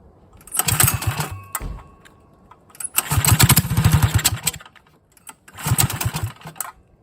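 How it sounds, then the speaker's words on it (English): A poorly running motorcycle engine with little power, a lumpy, uneven chugging that surges in three loud bursts separated by near-silent gaps, close to the listener. "This engine does run, but it runs really poorly."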